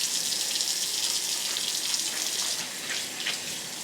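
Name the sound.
rinsing cabbage pieces under running water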